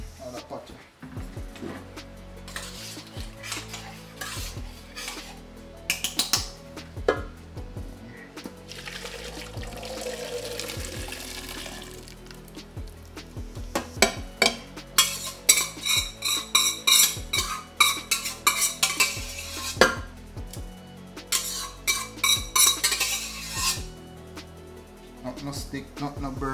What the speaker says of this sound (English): so let's transfer corn in another pot